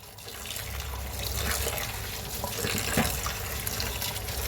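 Homemade pasta noodles are rinsed under running water, a continuous close gush and splash from a tap with steady flow and small surges, no voices.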